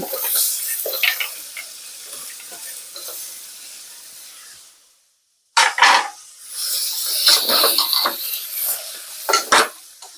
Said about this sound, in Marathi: सर्व ज्या भाज्या आपण कट केलेल्या त्या सर्व भाज्या टाकून द्यायच्या